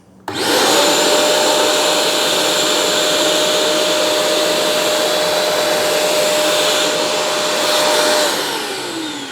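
A Vacmaster Multi 20 wet and dry vacuum cleaner switches on abruptly and runs with a loud, steady, whining roar for several seconds, then its pitch drops as it begins to wind down near the end.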